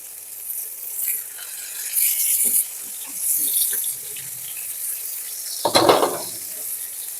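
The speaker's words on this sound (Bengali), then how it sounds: "ওই তেলের মধ্যেই আমি কই মাছগুলোকে দিয়ে দেব।" Koi fish frying in hot oil left from frying lentil dumplings, a steady broadband sizzle with bursts of crackle and a loud spitting flare near the end, heard alone.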